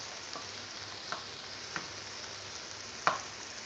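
Food stir-fried in ghee in a pan, a steady soft sizzle with a few light scrapes and taps of the utensil, one sharper clink near the end, no voices.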